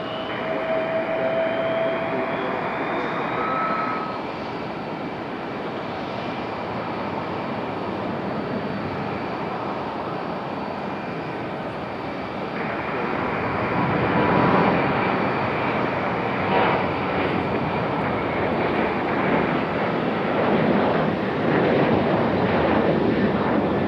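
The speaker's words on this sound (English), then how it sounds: "Here we go, Copa Airlines on the move, headed back to Panama City." A Copa Airlines jet departing Raleigh-Durham airport for Panama City gives off a sustained jet roar with a thin tonal whine, swelling louder midway and holding for over twenty seconds.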